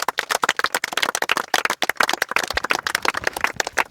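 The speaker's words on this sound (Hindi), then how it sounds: "राजीव के नाम पे एक जोरदार ताली लगाओ।" Audience in a hall applauds loudly for Rajeev, a young man selected for the CBI and CPO, with dense, steady clapping that fills the whole stretch.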